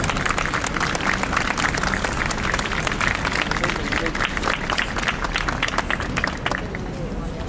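A crowd at an outdoor rally for refugees in Santander applauds steadily and loudly, a sustained wash of many clapping hands with faint crowd murmur throughout.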